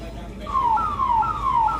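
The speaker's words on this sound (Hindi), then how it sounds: "एम्बुलेंस जो है इसी रूट से होकर गुजर रही है।" Ambulance siren on a flooded Delhi road near ISBT Kashmere Gate, a loud repeating falling wail cycling several times over low traffic rumble, close by.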